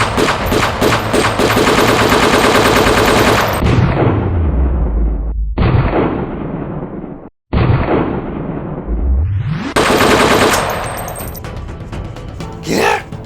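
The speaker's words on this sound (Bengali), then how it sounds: "নিচে গুলি কর, প্যান্টে গুলি কর" Gunfire in a comedy sketch, a loud rapid burst of machine-gun shots followed by booming blasts and sweeping whooshes, with a short silent break in the middle.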